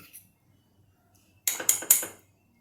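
A spoon clinks against a bowl while curd is spooned in, three quick bright metallic taps in a row after a near-silent pause, close and crisp.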